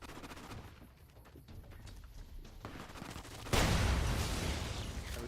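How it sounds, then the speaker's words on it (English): Fully automatic weapon fire in the game Fallout New Vegas crackles as fast rapid bursts under a noisy game mix, growing into a dense, louder roar of sustained fire in the final seconds. "What's trying to attack me now? Somebody with a fully automatic weapon."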